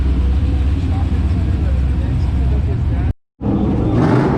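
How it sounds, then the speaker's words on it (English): A loud, rumbling engine of an old 2002 truck at a Malibu car show drones continuously, cut by a brief silence, then resumes with a rising roar. "This truck sounds awesome."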